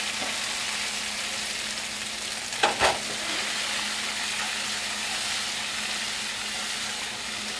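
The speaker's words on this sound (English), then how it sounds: "Sure you break up your little onion bits, clumps, so they cook up nice and fast and easy and even." Chopped onions fry steadily in a hot pan while the clumps are broken up, a constant loud sizzle with one brief sharp scrape of a utensil partway through, no talking.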